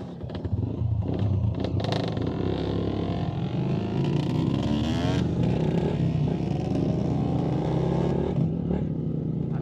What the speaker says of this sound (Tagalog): Merong KX kami po rito, 85cc kay Jessan Lotilia.